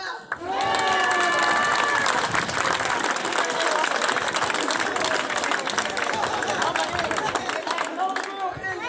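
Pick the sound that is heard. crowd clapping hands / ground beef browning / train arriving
crowd clapping hands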